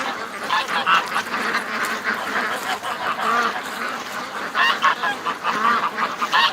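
Domestic ducks quack and honk continuously outdoors on a windy morning, a dense, overlapping chorus of nasal calls close by with no talking.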